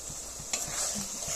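Spiced masala with tomato and carrot sizzling in a pan after a splash of water, a close steady hiss with a few soft stirring scrapes, brief and with no voices.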